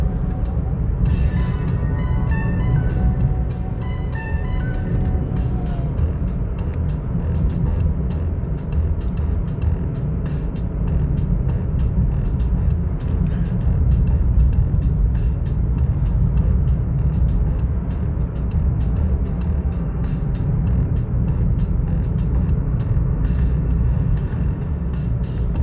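A car climbs Highway 330 after the Line Fire with steady, loud road and engine noise throughout, constant tire rumble and wind rush, and a faint rapid ticking running through much of the drive.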